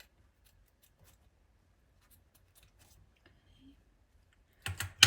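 Faint, scattered clicks and snips, then a short, loud burst of poor-quality scissors cutting paper close by at the very end.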